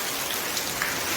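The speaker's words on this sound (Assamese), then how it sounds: "তো চাওক এতিয়া কিমান ধুনীয়া বৰষুণ দি আছে ইয়াতে" Steady, dense rain falling outdoors in Assam, a continuous even hiss of drops with no pauses or other sounds.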